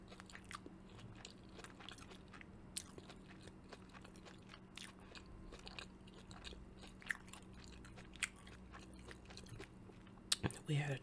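Fried catfish being bitten and chewed close up, with wet crunchy bites and clicks repeating over a quiet hum and a few louder crunches near the end.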